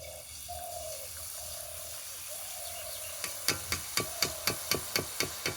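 Boondi batter dripping into hot oil and frying, a steady soft sizzle joined by a quick regular series of sharp taps as batter is pressed through a ladle, close and clear.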